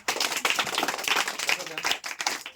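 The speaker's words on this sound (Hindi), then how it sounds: "जोरदार तालियां।" Young schoolchildren in classes three to five clap loudly together in a classroom, a busy, fairly close burst of hand claps with a voice or two mixed in among the clapping.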